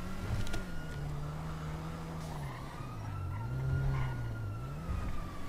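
Emergency vehicle siren wailing up and down in slow sweeps, heard from some distance over a steady rumble of road traffic.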